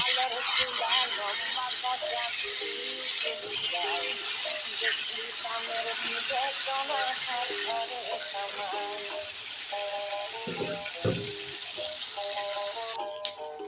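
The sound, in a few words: pangas fish frying in hot oil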